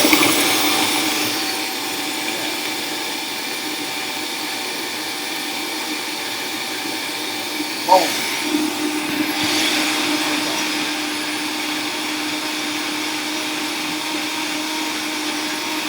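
A blender whirs steadily while making a green smoothie, its motor hum running evenly from start to finish, with a brief exclamation near the middle.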